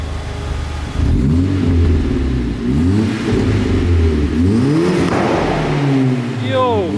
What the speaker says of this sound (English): Give it a couple of revs.